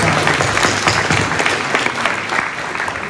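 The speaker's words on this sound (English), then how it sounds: "applause for Dr." Audience applause at a New York Comic Con panel, loud and close, a dense crowd clapping that stays strong throughout and eases slightly toward the end, with no talking over it.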